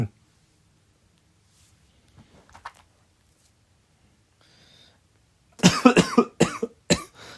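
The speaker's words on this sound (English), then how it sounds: "I was this close to having a coughing fit" A few short bursts of coughing at close range after near silence, loud and harsh, coming in a quick cluster of four or five.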